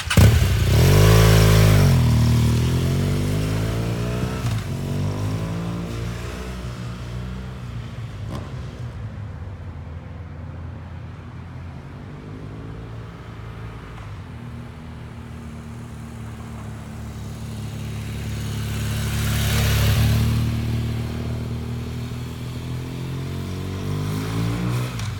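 A motorcycle leans into a turn, its engine revving loudly at first, easing to a steady mid-level drone, then swelling briefly again near the end.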